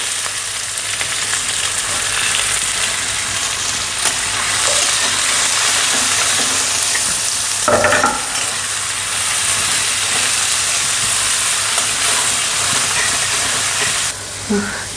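Chopped onion hitting hot oil in a pan while cooking vermicelli upma, giving a loud, steady close sizzle and hiss that continues throughout with a few stirring scrapes, and a voice speaks briefly.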